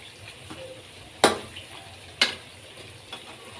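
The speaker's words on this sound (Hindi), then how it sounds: "और इसको अच्छी तरह से फ्राई कर लेंगे।" Bitter gourd (karela) curry masala frying in a pan gives a soft, steady sizzle, broken by two sharp metallic clanks of a utensil against the pan and a fainter third tap.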